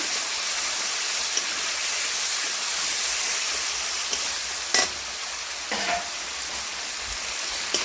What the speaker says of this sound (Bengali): ভালো করে মশলাটা কষিয়ে নেবো